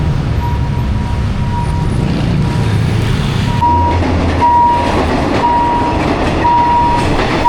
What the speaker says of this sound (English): This is the MRT metro.